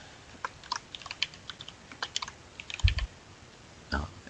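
Quick, irregular clicking of someone typing on a computer keyboard, close and steady, with a couple of heavier key thumps near the end.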